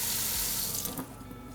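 Water runs from a tap into a pan holding a cup of sugar on a stovetop, with a steady rushing splash that tapers off and stops partway through.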